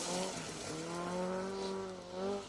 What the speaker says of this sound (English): here comes Alex Waterman and Chris Davies in the Datsun 1600 Triple S